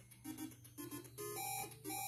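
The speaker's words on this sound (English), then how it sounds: "I know that beeping is a little annoying, but that's how they have it" Electronic beeps repeat in the Friday the 13th NES video game, a rapid series of thin, tinny chiptune tones in short bursts over quiet game music, with no talk.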